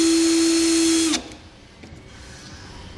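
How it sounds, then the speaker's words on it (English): A small drill bit whines steadily at high speed for about a second while marking a pickup truck bed for a gooseneck hitch, then spins down and stops, leaving quiet room tone. "use a small drill bit just to kind of make some marks in the bed of our truck"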